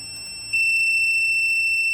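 A Focus Acaleph 891S UV single-pass plastic bag printing machine sounds its low-ink alarm. It starts as a faint tone, then jumps to a loud, steady, high-pitched continuous beep that holds unbroken to the end, with no talking.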